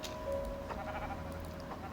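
A faint, brief goat bleat in Minecraft over a steady electronic hum, quiet and somewhat muffled.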